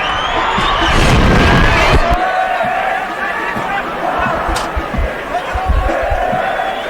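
Spectators at a schoolboy first-team rugby match between Hilton College and Michaelhouse roar in support of their sides, a loud swell of crowd cheering that peaks early and then settles into steady noise with thuds and shouts scattered through it.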